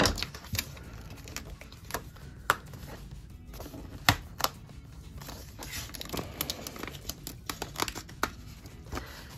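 Paper pages for a Classic Happy Planner are cut by hand, giving close, scattered crisp snips and rustles at an irregular pace over a quiet background.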